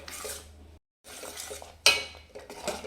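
A thick, spicy ground paste being stirred in a cooking pot for an old-style buttermilk saru with roasted green gram: close, soft scraping strokes with a brief pause, then a sharp metallic clank of the spoon against the pot.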